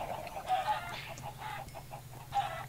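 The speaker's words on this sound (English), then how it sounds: "I'm just gonna kill all these chickens." Chickens clucking in the video game Minecraft, several short bursts of clucks in an irregular rhythm at moderate distance over a quiet background hum, with no talking.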